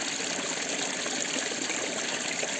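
A forest stream flows with a steady, close trickling and gurgling that holds even throughout, with no voices.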